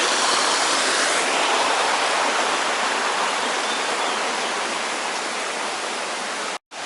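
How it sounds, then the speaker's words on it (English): Rapids on the River Dee roar as rushing water, a dense, steady broadband wash that stays loud and unbroken throughout, with no voices, cut off briefly near the end. "We'll just take a little bit of a close-up of the rapids here, the River Dee rapids."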